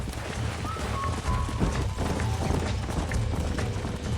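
Horses galloping in the western game Red Dead Redemption 2, a steady rapid drumming of hooves under a continuous rush of wind and movement noise, with no one speaking.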